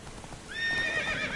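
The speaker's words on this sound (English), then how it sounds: "Fucking demon horse doesn't know what the hell he's doing." A horse in the video game The Witcher 3 whinnies loudly and close, a rising then wavering neigh lasting almost a second, over faint hoof clip-clop and a low game background.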